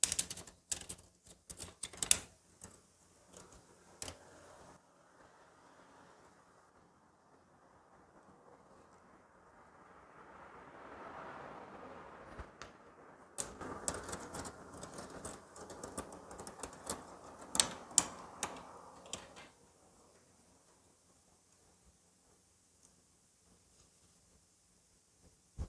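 Hands and wrenches tighten a valve tappet adjuster on a Bajaj Pulsar 200 NS motorcycle engine, giving scattered sharp metallic clicks and taps in bursts, with quieter rustling stretches between them.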